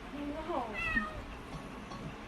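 A pet cat meows a couple of times indoors, short rising and falling calls near the start, fairly close but soft over a low background hum.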